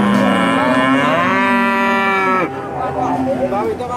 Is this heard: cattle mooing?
yes